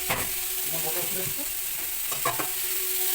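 Vegetables, including sliced bitter gourd, fry in a pan with a steady sizzle and a few stirring scrapes and knocks, close by and without talk.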